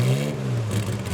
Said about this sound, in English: And up and across the line in that beautiful Ford Galaxy 500.